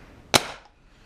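An Empire BT Dfender paintball marker fires one sharp, close shot on high power during a chronograph test, a single loud crack followed by a short fading tail, then near silence.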